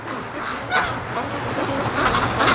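Honking, quacking ducks calling in short bursts while playing in water, over a constant outdoor background, moderately close, with a few overlapping calls.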